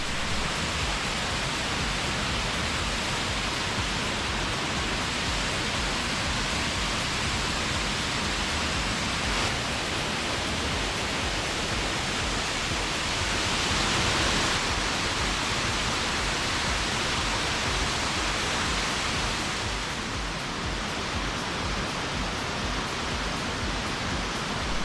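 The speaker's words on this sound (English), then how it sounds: "It's an unassuming staircase from the road, but it leads to quite a spectacular waterfall." Snobs Creek Falls, a waterfall reached by a staircase from the road, roars as a steady, dense broadband rush of falling water, loud and unbroken throughout with no voices.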